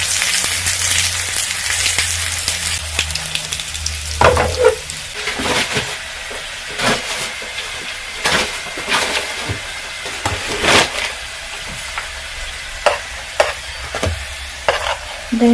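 Soya vegetable rolls frying in a pan, a steady close sizzle of hot oil broken by repeated scraping and clattering as the rolls are checked and turned.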